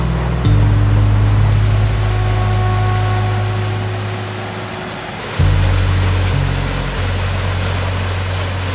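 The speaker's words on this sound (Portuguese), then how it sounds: "o Carabinani apresenta saltos impressionantes, que só podem ser observados nesta época." Waterfalls on the Carabinani river in the Amazonas rainforest roar as a steady, loud wash of falling water. A low tonal hum sits underneath and the level shifts briefly around the midpoint.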